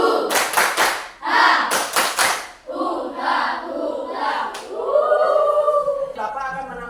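A classroom of children performs a clapping chant, bursts of sharp group handclaps in quick rhythmic sets, then voices shouting and chanting together in unison.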